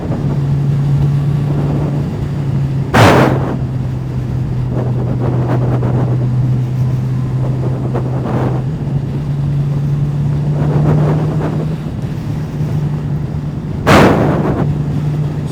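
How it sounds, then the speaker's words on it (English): A Honda 650 four-cylinder motorcycle cruises along a country road with a steady engine hum under heavy wind rush, broken by two brief louder gusts. "So a little Honda 650, 4 cylinders, it likes to go up the revs a bit"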